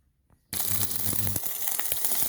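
After a brief quiet moment, chicken liver pieces hit hot oil over high heat and burst into a loud, steady sizzle with crackling pops that carries on to the end.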